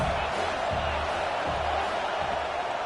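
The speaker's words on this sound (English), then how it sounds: "Man, this crowd really affecting the football." A home crowd at a football game roars in a dense, steady wall of cheering and noise from a large stadium, loud and unbroken throughout.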